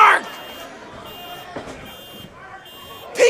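Alarms blare during a wrestling match at Bar Wrestling in Baldwin Park, buzzing tones sounding in bursts over a commentator's excited talk and crowd noise.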